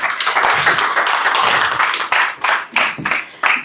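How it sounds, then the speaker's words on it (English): An audience claps for Mr. Mwenda at the launch of the Ajira digital economy policy guide, a loud, dense patter of hands at close range that thins into a few scattered bursts toward the end. "Another round of applause for Mr."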